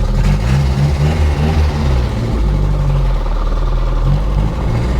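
Chevy Luv pickup truck engine running steadily while driving, a loud, continuous low rumble with slight rises and falls in pitch and no voices.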